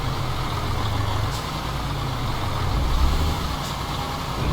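A heavy truck in Euro Truck Simulator 2 rumbling steadily as it backs up with a trailer, engine droning loud and close with only faint changes, no voices.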